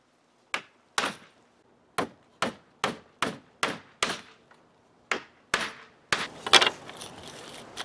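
Horseshoe nails are hammered into a wooden barn door track, about a dozen sharp, close metallic blows spaced in an uneven rhythm with short pauses, the last few quicker and followed by rattling.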